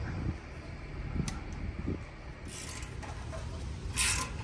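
Aftermarket round exhaust tips for a Kia Stinger being shaved down to fit, giving faint, intermittent rasping and scraping strokes with brief metallic clinks over a low background hum.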